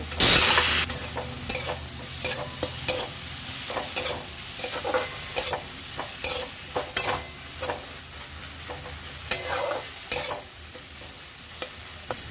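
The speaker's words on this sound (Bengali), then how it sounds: "মশলা ভালো মতো কষানো হয়ে গেছে এরপর ফ্রাই করে রাখা আলুগুলো দিয়ে একটু নাড়াচাড়া করে" Fried potatoes being stirred into a cooked spice paste in a pan for a Bengali fish curry with aubergine, a spatula scraping and clacking in an uneven rhythm over a steady close sizzle, with no talking.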